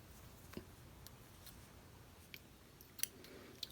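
Scissors snip yarn ends off a crocheted moss stitch baby blanket in a handful of faint, separate clicks spread over a few seconds in a quiet room.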